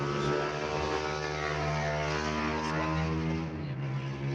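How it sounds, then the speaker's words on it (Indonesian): A motorcycle engine drone hums nearby on the roadside, a continuous buzzing roar that swells slightly, with no talking. "agak berisik teman-teman ya, ada suara motor ya kan"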